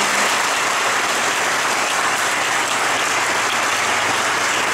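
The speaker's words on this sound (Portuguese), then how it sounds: "Vamos aplaudir essa palavra" A church congregation applauds during a talk, with steady, loud, dense clapping that holds for several seconds without a break.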